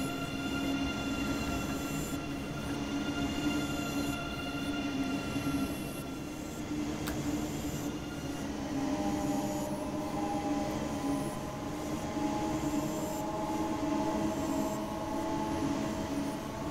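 An ICE high-speed train in the Train Sim World 2 game pulls out of Augsburg toward Munich, giving a steady rumbling rail drone with high-pitched wheel squeal and tonal hums and a brief click near the middle.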